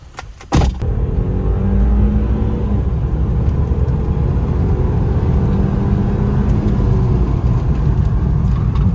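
A BMW 318i M-Sport engine, after a radiator side tank repair, starts up with a sudden burst and then settles into a loud, steady rumble as the car drives off.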